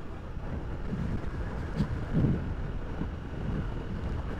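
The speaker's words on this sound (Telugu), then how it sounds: "గాలి మాత్రం బాగా వస్తుంది అలా" Strong wind blows steadily against the microphone near the Krishna River, a continuous low rumble with slight gusts and no voices.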